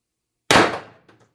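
A single sharp pop from a shot fired by an X-68 paintball marker, loud and close, decaying quickly with a faint rattle just after.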